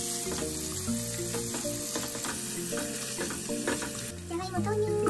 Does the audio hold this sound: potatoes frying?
yes